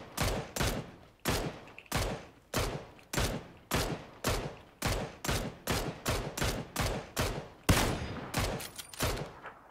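Rapid repeated gunfire in the PUBG battle-royale game, about twenty loud close shots in a steady rhythm with sharp attacks and short decays, heard alone.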